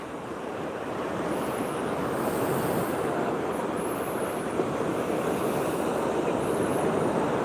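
Small, flat waves wash steadily against a breakwater at Blyth, Northumberland, a continuous soft surf roar with light wind buffeting the microphone throughout.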